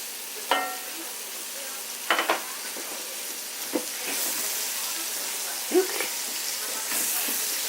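Brussels sprouts and bacon bits sizzle in bacon grease in a pan, a faint steady frying hiss broken by a few sharp clanks and stirring scrapes.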